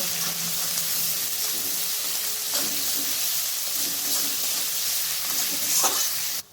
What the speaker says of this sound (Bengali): পেঁয়াজটা আমি হালকা ভেজে নেব।